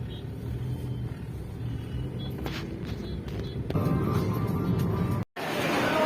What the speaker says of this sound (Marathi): एवढं ट्रॅफिक मानखुर्दमध्ये एवढी ट्रॅफिक आता पुढे अजून बघायचं आपल्याला